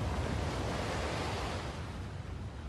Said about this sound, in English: Waves were probably breaking against the cooling shore of the future Western Australia